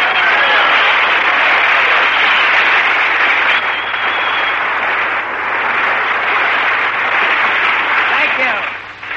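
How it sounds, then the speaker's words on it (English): A radio studio audience applauds steadily at a 1945 Lucky Strike broadcast starring Jack Benny, a dense, even wash of clapping that stays loud for about nine seconds before tapering slightly at the end. "Clap them hands."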